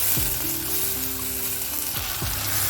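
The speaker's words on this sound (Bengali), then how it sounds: "কড়াইয়ে তেল দিয়ে তেল গরম হলে গোটা জিরে আর হিং ফোড়ন দেবো।" Whole cumin seeds and asafoetida sizzle in hot oil in a kadai, a steady close fizzing broken by a few scraping knocks of a spatula against the pan.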